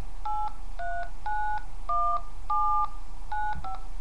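DTMF keypad tones from dialing a phone number on an iPhone 2G: about nine short, clean beeps in a quick, slightly uneven sequence over a faint background hiss, with no speech.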